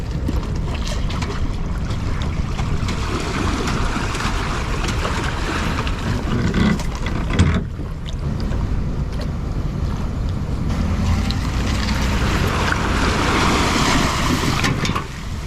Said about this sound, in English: We got the engine cranked up and the boat launched.